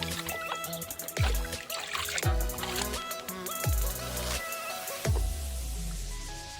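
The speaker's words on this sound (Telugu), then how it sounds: "రెండోసారి కడుక్కోవాలా ఎక్కువ కదా అందుకే బకెట్లో కడుగుతాను" Chicken being washed by hand in water in a bucket, close sloshing and splashing with several distinct scoops and pours of water in an uneven rhythm, no talk.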